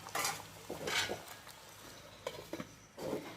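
Mangoes with jaggery stirred in a cooking pan, a spatula scraping and knocking against metal in several separate strokes with a faint sizzle between them, quiet and close, no talking.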